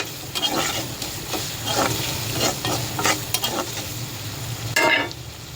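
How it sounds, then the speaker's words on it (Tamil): Avarakkai broad beans being stirred as they fry in a pan, with repeated scraping strokes of the spoon over a continuous close, bright sizzle and no talking. "ஸோ இது நல்லா அப்படி கிளறி விட்டுக்கணும். இது நல்லா வதங்கணும்."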